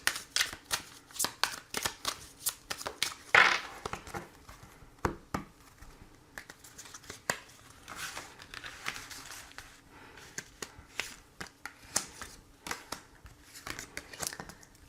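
Tarot cards are shuffled up close in a steady run of soft riffles and papery flicks, with no talking.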